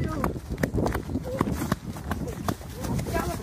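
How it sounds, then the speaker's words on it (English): A horse galloping past with rapid, uneven hoofbeats thudding close by, mixed with excited shouting voices throughout. "Galloping!"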